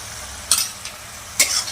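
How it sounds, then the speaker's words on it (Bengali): Ginger-garlic paste with cumin and chili powder sautéing in a pan for a soybean curry: a steady soft sizzle broken by two quick scraping stirs, close by and without talk. "আদা রসুন বাটা ভালোভাবে কষিয়ে নেব"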